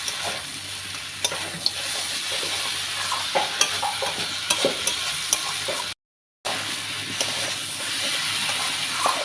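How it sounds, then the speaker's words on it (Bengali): Potato, bori and broccoli frying in spices are stirred in a pan, giving a steady close sizzle broken by repeated scraping and clinking of the spoon, with a brief gap of silence partway through. "এবার বড়ি আর ব্রোকলিটা দিয়ে দেবো। এবার এইটা দিয়ে একটু নাড়াচাড়া করবো।"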